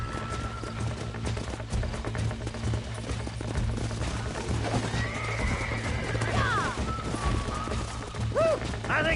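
Horses whinny and neigh over steady clip-clop hooves and background game music in Red Dead Redemption, with a loud neigh midway and another near the end.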